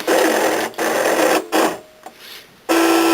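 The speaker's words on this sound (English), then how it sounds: "and then it'll start to cut it on your Cricut machine." A Cricut machine cutting a card, its motor whirring loudly in bursts and stopping briefly between passes, with a quieter stretch of faint mechanical movement before the cutting resumes.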